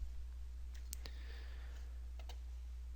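A computer mouse gives a few sharp, isolated clicks while working in SolidWorks, close and distinct over a low electrical hum, with no talk.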